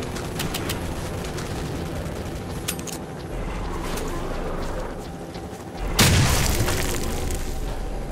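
A manual grenade explodes in STALKER: Shadow of Chernobyl, one loud sudden boom partway through that rings out, after a stretch of scattered gunfire and game ambience.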